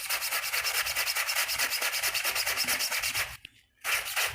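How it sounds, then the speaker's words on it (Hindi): A stiff brush scrubs a stained, grimy school uniform fabric in fast, steady back-and-forth strokes, close and loud, with a brief pause near the end before scrubbing resumes. "इसको हम ब्रश लगा के देखते हैं साफ़ हो रहा है"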